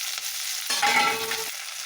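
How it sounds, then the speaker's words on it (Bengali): Garlic, onions and chopped capsicum frying in a pan for chilli chicken, a steady close hiss of sizzling with a brief louder stir or scrape partway through, and no voices. "রসুনটা হালকা হালকা ভাজা হয়ে গেছে এবার দেবো করে কেটে নিয়েছি পেঁয়াজগুলো"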